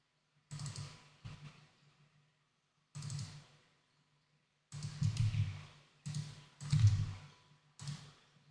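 Computer mouse clicks come in short, close, quiet bursts separated by silent gaps, some as single clicks and some as quick clusters.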